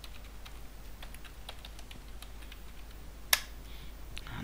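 Sparse keystrokes on a computer keyboard while entering a password during a VMware ESXi 6.5 installation, scattered soft taps over steady fan hum, one sharper click near the end.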